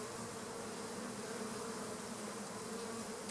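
A honeybee swarm leaving its box on an orientation flight, a dense steady buzz of many bees hovering close around, continuous and even throughout.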